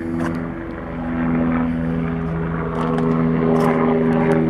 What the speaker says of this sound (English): A little helicopter going over.